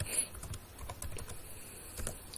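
Keyboard typing as data is entered into a database table, a steady run of quick, light keystrokes close by with no voices.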